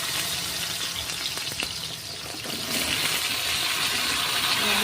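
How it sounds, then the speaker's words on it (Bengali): Aged okra (bhindi) hitting hot oil with cumin produces a loud, steady frying sizzle that swells and stays dense throughout, with a few faint clatters and no talking. "আমি কেটে ধুয়ে বেছে নিয়েছি এই যে বুড়ো ভিন্ডি। বন্ধুরা, আমি এটা তেলের মধ্যে দিয়ে দিচ্ছি।"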